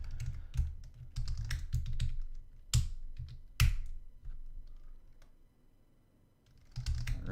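Rapid clattering keystrokes on a computer keyboard that is acting up during programming, delivered in uneven bursts with a few sharper, louder clicks and a quieter stretch near the end.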